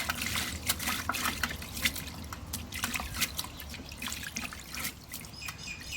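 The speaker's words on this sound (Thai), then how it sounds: "อันนี้ก็ล้างผักกาดหินจ้าว่าต้องล้างมันดีดอก ล้างน้ำเดียวกับพ่อ" Chinese cabbage leaves being washed by hand in water, with continuous splashing, dripping and trickling, close and moderately loud, while birds call faintly in the background outdoors.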